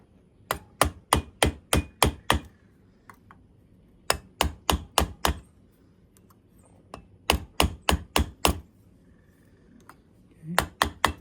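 A part on a 1948 Cadillac fuel pump is hammered down, likely a brass piece, with rapid close metallic taps in four quick bursts of about six to eight strikes, pausing between bursts, with no speech.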